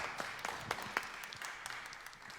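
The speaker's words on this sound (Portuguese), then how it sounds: "Umas palmas para ele." An audience at a poetry café evening claps for a guest, a short burst of quiet, scattered applause that thins out within a couple of seconds.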